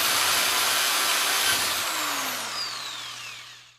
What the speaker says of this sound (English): all I'm going to do is drill through the front, like that, so we'll have the holes through the molding for the handles